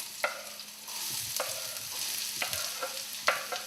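Chopped onion sizzling in a pan for fried rice, a soft continuous fry broken by several sharp scrapes and taps of a utensil stirring it, close and without speech.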